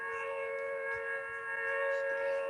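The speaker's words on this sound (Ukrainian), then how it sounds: "Сирена." A video game siren holds a steady, droning wail at low volume throughout, sounding alone without any talk.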